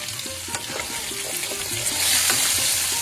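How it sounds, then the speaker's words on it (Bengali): Whole garlic cloves frying along with potatoes in a pan give a steady close sizzle, with light stirring clatter on top and the frying growing louder toward the end. "সেটাও আলুর সঙ্গে ভাজা হোক"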